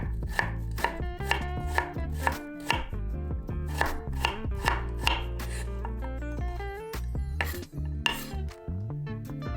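A knife finely minces onion on a cutting board for a shrimp coconut curry, with quick, rhythmic chops close up, each a crisp ringing knock, pausing briefly near the end before a few last strikes.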